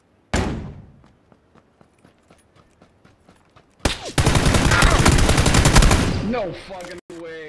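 Video game gunfire: a loud shot with a decaying tail and a trail of faint ticks, then a sustained burst of rapid automatic fire that cuts off, followed by a quieter tone.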